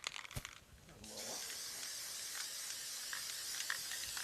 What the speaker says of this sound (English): Spray the tree.